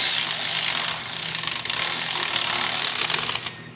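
Power tool running steadily at half throttle, driving a frame slider bolt on a 2022 Yamaha R7: a continuous loud, close buzzing whir for several seconds that eases off at the end, no talk.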